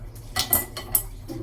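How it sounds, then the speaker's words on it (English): A big kitchen bowl is handled among cooking equipment, giving a few quick clinks and knocks of dishware and utensils, close and moderately loud, with no talking. "a big bowl"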